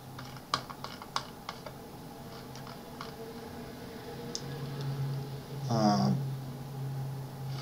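Someone taps a computer keyboard while entering an equation into Mathcad 14, a few sharp clicks spaced out at the start, then a quiet room hum with a brief murmuring sound near the end.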